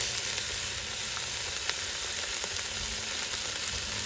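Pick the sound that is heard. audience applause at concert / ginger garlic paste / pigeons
ginger garlic paste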